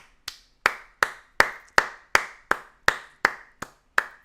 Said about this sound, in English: I'm going to clap y'all up, man.